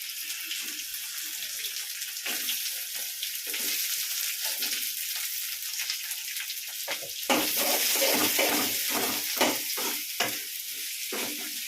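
Onions and two green chilies frying in a pan, a steady bright sizzle throughout with scraping stirs and clatter growing more frequent toward the end, close and continuous with no talk.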